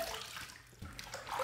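A shaving brush is rinsed under running water, giving a brief, steady, fairly quiet gush and splash from close by with no talk.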